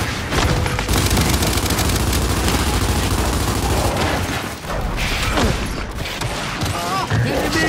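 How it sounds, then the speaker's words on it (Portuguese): Gunfire and explosions roar through a match of the video game Gears 5 as a flash grenade goes off, with dense, continuous bursts of shots, booms and mechanical clatter, loud and close, and a brief dip partway through. "Saindo granada de flash!"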